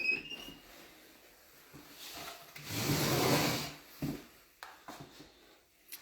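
A closet door in a house on W Franklin St, Shelbyville, Indiana slides open, followed by soft wooden rubbing and light handling noises, mostly faint and close with a brief louder scrape in the middle.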